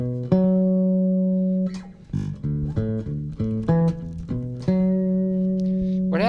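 Bass guitar plays a diagonal fifths line: a held low note, then a run of short plucked notes moving up and down, settling on another sustained note. The playing is clear and close, with no voices.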